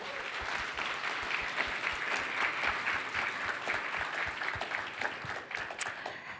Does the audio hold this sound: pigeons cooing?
no